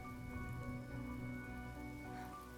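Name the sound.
rain falling in Honkai Star Rail video game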